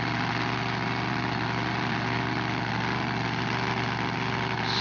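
A mud drag truck's big engine idles at the start line of a mud racing event, a loud, constant low rumble with a steady drone and no pauses.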